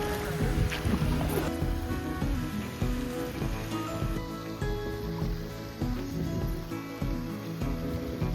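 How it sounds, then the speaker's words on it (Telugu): Water splashes and pours down onto riders during a zoo boat ride, a continuous rain-like patter and rush lasting several seconds, fairly close and steady with faint background voices. "అక్కడ వాటర్ ఇక్కడ పడుతుంది మా మీద."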